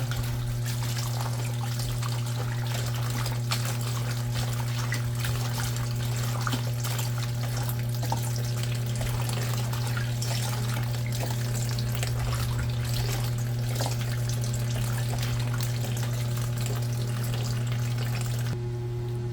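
Food being washed under running tap water, a steady continuous rush and patter of water with a low hum underneath, close and unbroken, no speech.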